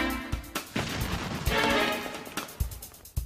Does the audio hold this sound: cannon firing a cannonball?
yes